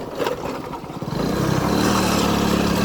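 A loaded motorcycle strains up a steep hill road, its engine rising from a rough, uneven note into a loud, steady pull that holds close and continuous.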